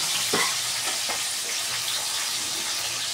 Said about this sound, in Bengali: এই মাছটাও ভাজছি